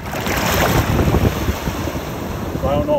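Surf washing in at a Punta Cana beach, a steady broadband rush of ocean waves with strong wind buffeting the microphone throughout, no voices heard.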